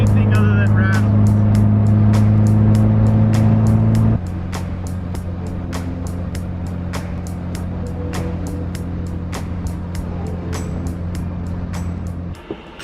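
A Subaru WRX with an external wastegate, straight pipe and big turbo drones close and loud from inside a gutted cabin, a steady engine hum that drops to a lower pitch after four seconds, with sharp rhythmic ticks and rattles throughout.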